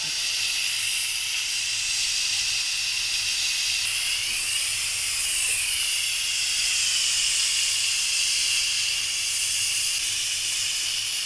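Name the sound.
Instant Pot pressure release valve venting steam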